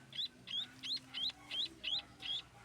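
Maya birds at feeding time give a quick series of about eight sharp, high chirps in an even rhythm, fairly faint and close, with no voices.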